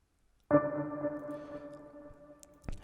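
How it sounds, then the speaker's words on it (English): A single classical guitar one-shot from the Nexus plugin plucks once, ringing and slowly decaying, quiet and alone, with a faint click near the end. "So I chose this guitar, and in Nexus classical"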